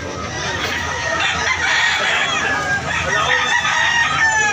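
A two-year-old yellow-legged fighting cock with a large body crows, drawn-out calls rising over continuous clucking and crowing from other fowl in a crowded farmyard.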